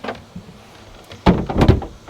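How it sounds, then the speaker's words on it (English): The folding cabin door on a Saxdor 460 GTC motor boat is opened, giving a short burst of clatter and knocks from the door panels, loud and close, after a quiet lead-in. "there is a clever folding door on this, isn't there?"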